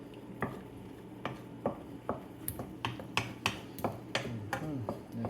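A spoon stirs homemade sofrito into Puerto Rican style pepper steak in a pot, a quiet scraping and clinking that taps out irregular knocks against the metal, up close and with no talk.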